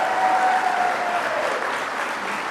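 Audience applause at a rally for Vice President Kamala Harris in Douglas, Arizona, with a steady wash of many hands clapping, dense and sustained for the whole stretch.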